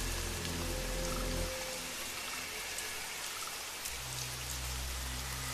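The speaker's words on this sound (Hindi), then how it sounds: "तेज बारिश शुरू हो गई।" Heavy rain pours down as a story sound effect, a dense, steady patter of drops on surfaces that continues without letup, with a low hum that fades and then returns.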